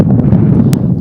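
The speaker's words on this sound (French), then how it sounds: "un vent qui est assez fort présentement, on le sent vraiment même au micro" Strong wind buffeting a microphone at an outdoor athletics field, a loud, continuous low rumble with a brief crackle partway through and no voices.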